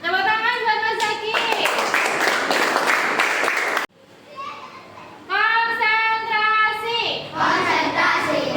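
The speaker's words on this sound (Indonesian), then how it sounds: "Tepuk tangan buat Mas Zaki." Schoolchildren clapping for a classmate in a classroom, two bursts of close, lively hand claps separated by a brief quiet gap, with children's voices chanting and calling out over the claps.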